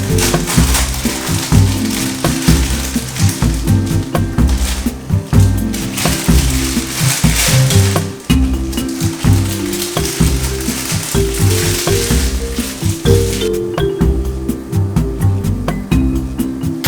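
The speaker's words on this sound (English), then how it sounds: "Okay, pour steaming hot broth stock into the oil." Hot broth stock poured into hot oil for spicy ramen, producing a loud, continuous crackling sizzle and bubbling that stays strong and busy throughout, with no one talking.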